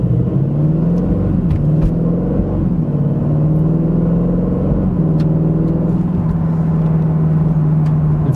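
A 2025 Aston Martin Vantage's twin-turbo V8 hums in a deep, steady drone, rising slightly in pitch and falling a few times, heard close inside the car with no speech.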